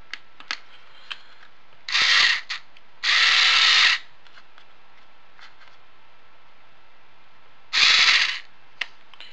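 Power driver running screws with a hex bit into an Emaxx RC truck chassis through tight, unused holes; three loud bursts of motor whir, about a second each, separated by light handling clicks, close up.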